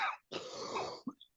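A man coughs close to the mic during a podcast recording, giving a brief harsh burst followed by a longer raspy, throat-clearing cough and a short final hack, with no talk in between.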